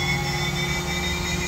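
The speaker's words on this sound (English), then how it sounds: "we can rev the RPM up with the spindle" A DMG Mori NTX 1000 vertical machining center spindle spinning at high RPM gives a steady, even whirring hum with a constant tone and no talk.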